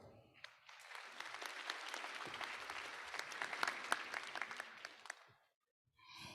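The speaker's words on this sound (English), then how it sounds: "Please give them a big round of applause." An audience at a medical society's opening ceremony breaks into sustained applause, dense clapping that swells and holds for several seconds before stopping, with a voice starting again at the end.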